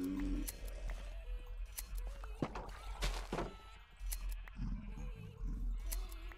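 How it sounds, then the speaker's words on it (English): Minecraft sheep bleat several times at scattered intervals, mixed in with soft thumps and footstep-like taps at moderate volume. "Sheeps. Sheepy sheeps."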